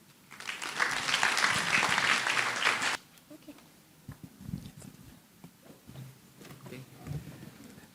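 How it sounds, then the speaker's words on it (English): Audience applause at a university forum in the Philippines, a loud dense burst of clapping for about three seconds that stops abruptly, followed by quieter room noise and scattered movement. "one more round of applause po for Father Ben"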